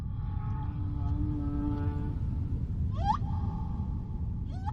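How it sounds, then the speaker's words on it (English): Male humpback whale singing underwater off Mozambique, long wavering tonal moans followed by two rising, swooping calls, heard alone over a deep ocean rumble. "The male humpback whale's song is one of the longest and most complex of any animal."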